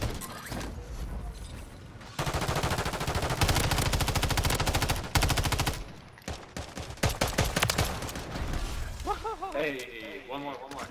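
Rapid bursts of automatic gunfire rattle in a video game match, dense loud volleys running for several seconds with brief gaps between bursts, and a voice speaks near the end.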